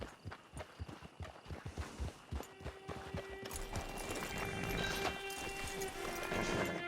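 Horse hooves clip-clop in a steady walking rhythm in Red Dead Online, close and clear at first, then partly buried under a swelling musical score and ambient layer.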